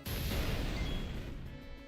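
A fire spell explosion in Final Fantasy X, a single sharp boom that hits at once and then fades into a fizzing, rumbling tail.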